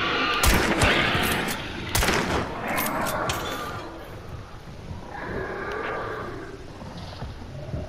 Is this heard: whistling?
no